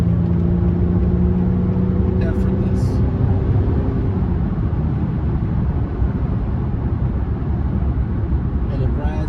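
Acura TLX 2.0T sedan accelerating hard, a steady loud engine and road roar filling the whole stretch with a rising tone early on, with speech likely mixed in.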